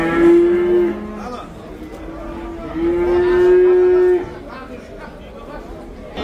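Cattle at a livestock market in Taraz moo in long, loud, tonal calls, one near the start and a longer one midway, over a steady background of market chatter and distant voices.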